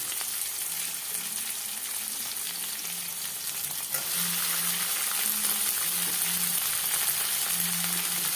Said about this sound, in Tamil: இப்போ இதோடு நம்ம நறுக்கி வச்சுருக்க சுண்டைக்காயும் சேர்த்து எண்ணெயில் நல்லா வதக்கணும்.